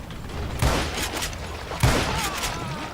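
Two loud gunfire volleys crack out in the Call of Juarez Gunslinger video game, each a sharp burst of bullets that rings and trails off, about a second apart.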